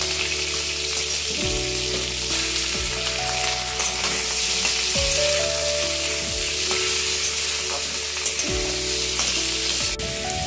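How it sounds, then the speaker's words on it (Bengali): Plain, unseasoned prawns hit a hot pan and sizzle loudly and continuously, with dense crackling spatter; a few pitched tones rise and fall in the background. "প্লেন জাস্ট চিংড়ি মাছটা আমি এর মধ্যে অ্যাড করে দিচ্ছি।"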